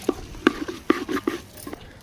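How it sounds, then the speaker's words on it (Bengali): Rice being stir-fried for khichdi in a pot on a clay wood-fired stove, with a steady run of close scraping and stirring knocks over a faint sizzle. "এইভাবে কষালে কি হয় একরকম চালটা একটু ভাজা ভাজা টাইপের হয় সেই সঙ্গে কষানোটাও হয়ে যায়"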